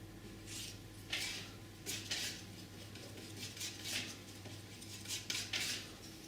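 A palette knife mixing blue and white oil paint on a palette, repeated scraping and tapping strokes in an irregular rhythm, quiet and close, with no talking.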